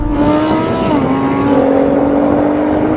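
Lamborghini Huracan, Audi R8 and Nissan GT-R launch together from a drag race start, a loud, sustained engine roar with a steady droning pitch that holds strong throughout.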